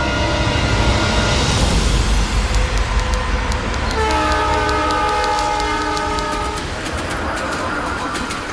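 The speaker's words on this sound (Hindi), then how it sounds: "तुलसीगढ़ के लिए ट्रेन निकल गई है।" A train pulls away from a station with a loud steady rumble, a horn sounding partway through over the ongoing roar, close and continuous.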